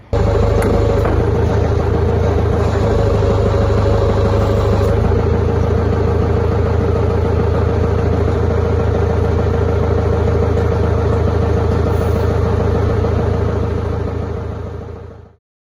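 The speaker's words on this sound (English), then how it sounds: "I'll be doing that with the forklift." A forklift engine runs steadily in a workshop where a Sherman tank is being restored, with a loud, close, even drone and a faint whine before it cuts off abruptly at the end.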